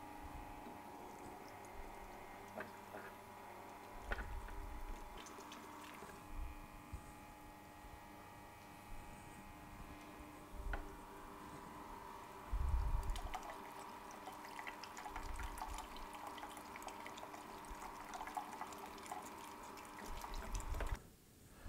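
Sana Juicer 828 slow juicer pressing halved oranges: a steady low motor hum runs throughout, with wet dripping and trickling of juice and occasional soft knocks.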